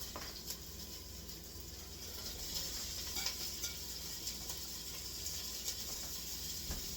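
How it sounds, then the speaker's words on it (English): Sausages sizzling in a hot frying pan for a red cabbage sausage dish, a steady, even crackling hiss that runs unbroken throughout with no one talking. "Hear that? That's a hot pan"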